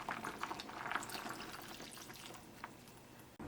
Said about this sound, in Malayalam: ഇനി ഇതിലേക്ക് ഞാൻ 1-ാം പാല് ചേർക്കട്ടെ